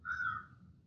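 A crow caws once, a single loud, harsh call near the start that trails off, with low rumbling background noise beneath it.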